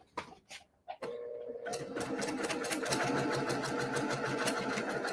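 Sewing machine stitching a quilt block for a snowflake quilt: a few soft clicks and taps, then the motor starts and runs a fast, steady, close stitching rattle to the end.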